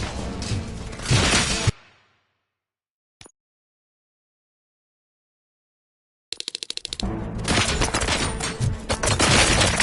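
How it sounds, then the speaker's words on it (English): Bursts of gunfire in the RoboCop video game, loud dense rapid shots for under two seconds, then a long silence broken by one short click, before a crackling volley of rapid shots resumes and continues to the end. "Gunshots? What's going on?"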